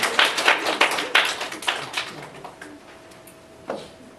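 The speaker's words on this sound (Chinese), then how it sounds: "掌声欢迎" Scattered audience clapping at a campus Christian gospel meeting welcomes the next speaker, with dense claps at first that thin out into a few isolated claps before fading.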